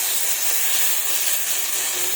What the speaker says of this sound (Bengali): এবার ভালোভাবে এগুলোকে নেড়ে এইভাবে ভাজতে থাকবো।